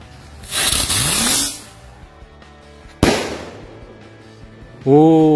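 A New Year firecracker is lit and sprays a loud hissing fizz, then a sharp crack goes off, followed by a whistling rising tone at the end.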